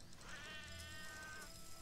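A cat in the video game Sheltered gives one drawn-out, faint meow, quiet and somewhat distant against a low background hum.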